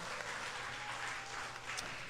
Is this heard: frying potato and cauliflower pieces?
no